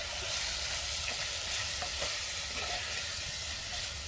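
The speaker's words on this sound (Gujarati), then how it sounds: "હવે આપણે હલાઈ નાખીશું જરાક" A khichdi tempering of coriander-cumin powder, salt and dry red chili sizzles steadily in a pan while being stirred, a continuous close frying hiss with no voices.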